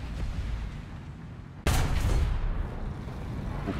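A single loud tank cannon blast from a Tiger H1 in a World War II tank game, a sharp boom cutting through steady engine rumble and ringing out over the noise that follows.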